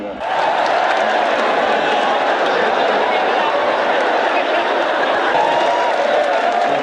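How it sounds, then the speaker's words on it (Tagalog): A boxing arena crowd roars as Manny Pacquiao enters the ring, a loud, unbroken wall of cheering and shouting that holds steady throughout. "Lalong dumagundo ang hiyawan nang tumuntong nasa ring si Pacman."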